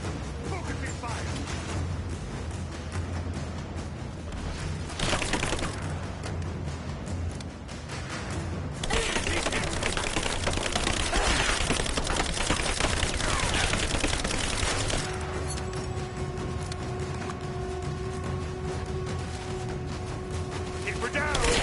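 Sustained gunfire in the Rise of the Tomb Raider game during a firefight, dense rattling bursts layered with loud battle noise and occasional shouted commands, continuous and close throughout.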